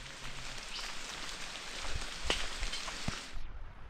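Steady rain pattering on a surface, a dense continuous hiss with a few louder drops, no voices.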